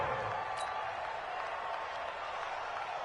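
A stadium crowd in Madden NFL 20 during a Raiders versus Dolphins game roars steadily before a big third down, a dense, even wash of cheering and applause with no distinct breaks.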